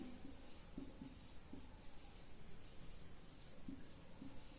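Faint scratching of a pen on paper while writing out a geometry proof about two triangles, a few short strokes against steady background hiss.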